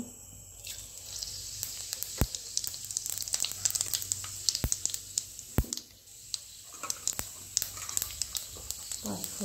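Five-spice seeds and oil sizzling in a pan for a home-style potato and poppy-seed dish, a soft steady crackle with sharp pops and clicks scattered throughout, fairly quiet.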